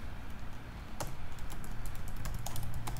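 Typing on a computer keyboard during a Java programming lesson, a quick irregular run of crisp key clicks heard close and alone, with no talking.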